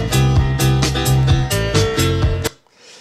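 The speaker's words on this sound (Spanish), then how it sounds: "Escuchamos el sampling del piano." A sampled piano loop plays in music software, a loud, full repeating pattern of struck chords with a regular rhythm for about two and a half seconds before cutting off abruptly to near silence.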